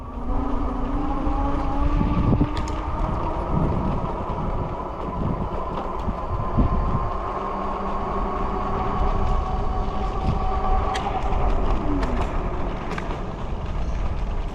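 Rad Mini folding 750W electric bike at full throttle with no pedaling, climbing a driveway: a steady whining motor hum over continuous rough rolling and rattling noise, close and sustained for the whole stretch.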